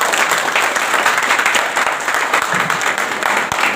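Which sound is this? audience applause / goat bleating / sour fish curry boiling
audience applause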